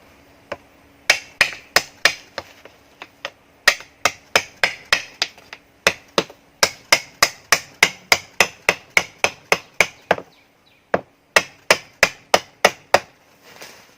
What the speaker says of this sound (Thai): แล้วก็ค่อยๆตอก